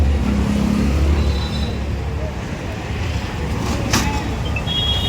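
Road traffic on a jammed Pune street, narrowed by hawkers and roadside encroachment: a steady, dense rumble of engines and tyres with a brief high horn-like tone, and voices talking over it throughout.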